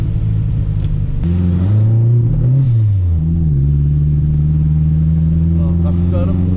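A Fiat 147 Turbo engine revs close by with steady low rumble, rising in pitch as it accelerates briefly, dipping, then settling into a sustained loud drone while being tuned.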